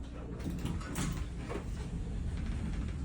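A restored elevator door in a condominium slides closed, a steady low mechanical rumble with faint rattling from the door operator, heard close up with no talking.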